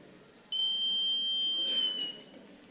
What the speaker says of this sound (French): le buzzer sonne